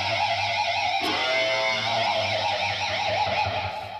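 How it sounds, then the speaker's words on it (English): Distorted electric guitar blues lick, two notes held together while the whammy bar swoops the pitch wildly up and down, loud and continuous, with a sharp pick attack about a second in. "what you do is you add the wang bar to it, like moving it real radically"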